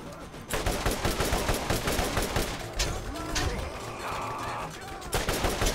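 Rapid, dense gunfire from a Borderlands shooter game crackles almost nonstop, bursts overlapping at steady loudness with a few sharper shots standing out.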